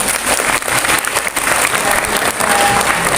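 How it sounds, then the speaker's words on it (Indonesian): Steady applause from a crowd, dense and loud, clapping continuously throughout. "Tepuk tangan"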